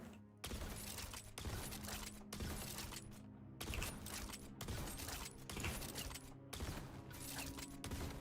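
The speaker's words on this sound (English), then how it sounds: "when you're holding down the trigger, it's going to be firing the gun fully automatic" Hot Slugger gun in Borderlands firing fully automatic, a dense, rapid clatter of shots in five sustained bursts separated by brief gaps, loud and continuous throughout.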